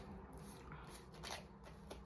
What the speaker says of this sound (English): I just took the 4 remaining cards and I shuffled them